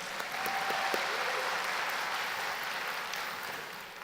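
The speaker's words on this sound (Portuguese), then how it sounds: "Vai lá, aplaude lá." Audience applause during a Brazilian religious TV program, a steady wash of many hands clapping at moderate distance, sustained evenly for about four seconds with faint tonal sounds behind it.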